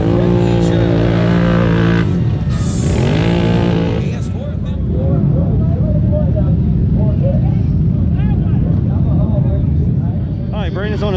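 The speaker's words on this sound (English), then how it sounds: "Brandon's on the starting line over there, and the engines are still running" Racing ATV engines idle and rev at the start line of a GNCC off-road race. The loud, close droning shows rising and falling pitch sweeps, and someone talks over it.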